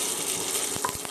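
Seeds crackle and sizzle in a hot pan for a vegan jackfruit-seed curry, a close steady hiss with a few sharp pops and stirring knocks near the end.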